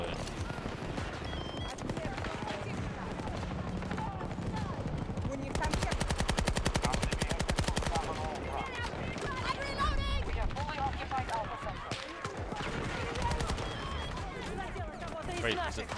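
Rapid automatic gunfire from a gun in an Xbox video game rattles in fast bursts, with the densest stretch in the middle. Excited players talk over the shooting and game noise throughout.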